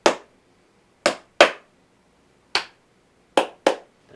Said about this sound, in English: we didn't do the clap yet